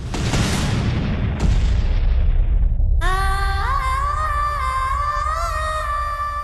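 Battle sound effect in an audio drama about the 1857 revolt and the Rani of Jhansi: a loud, heavy boom of cannon and gunfire that rumbles and fades, then gives way to a sustained tonal music swell.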